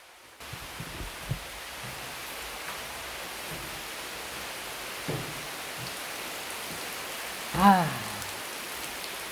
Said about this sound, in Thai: เสียงข้างนอกนะครับไม่ใช่เสียงสวรรค์นะครับเสียงฝนตก